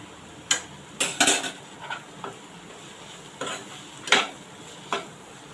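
A metal spoon scrapes and clinks against a pan while red chili powder and coriander powder are mixed in, giving a handful of sharp, irregular clatters over a quiet background with faint sizzle.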